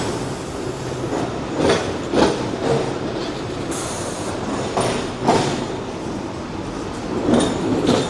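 Hong Kong double-deck trams rolling past on the street, with repeated rumbling, clattering wheel passes rising and fading at intervals over busy city background noise, fairly close.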